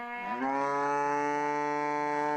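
Cattle in a barn give one long, loud, close moo that rises in pitch and then holds steady, with no talk over it.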